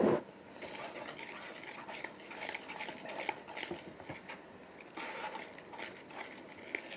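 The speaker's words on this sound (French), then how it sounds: "Je vais mélanger." Waffle batter with 175 g of flour is mixed in a bowl, a soft, close, continuous stirring and scraping with light utensil taps and no talk.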